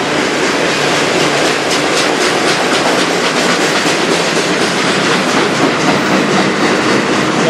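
A CN freight train rolls steadily past on the Strathroy Subdivision in Sarnia, Ontario, a loud, continuous rumble of rail cars with rhythmic clickety-clack from the wheels, close by and without any talk.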